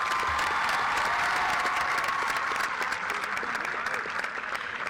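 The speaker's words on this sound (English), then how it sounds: "Give these nursing assistants a round of applause." Sustained applause from a graduation audience honoring nursing assistants, steady dense clapping filling the hall throughout at an even level with no voices above it.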